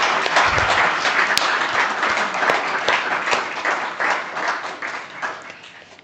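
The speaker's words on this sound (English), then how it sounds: "So please, a big round of applause for our panelists." An audience at a skills forum conference in Rwanda claps for a panel in a loud, sustained round of applause that gradually tapers off toward the end.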